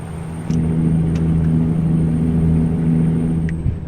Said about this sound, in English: The engine sound on this truck is pretty sweet too.